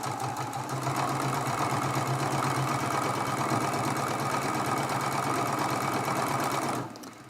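A sewing machine runs steadily while stitching a quilt block seam, a fast even whirring hum at close range that stops abruptly near the end.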